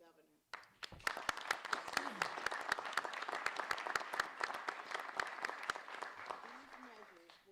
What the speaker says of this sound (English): For that, we want to applaud you, Mr. Governor.